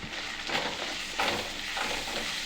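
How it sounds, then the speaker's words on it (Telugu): Ginger garlic paste with turmeric fries for a Telangana-style egg curry, making a short, even, close hiss of sizzling oil with faint stirring swells. "ఈ పసుపు అల్లం వెల్లిగడ్డ పేస్ట్ కొంచెం మంచిగా వేగాలి."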